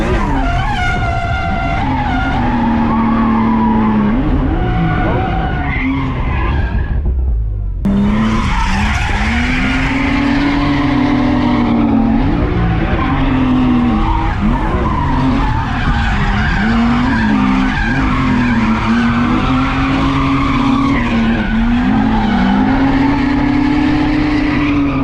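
A resurrected BMW M3 skids hard with loud, continuous tire squeal and a roaring engine, the screech rising and bending in pitch as it slides, with one brief dropout partway through.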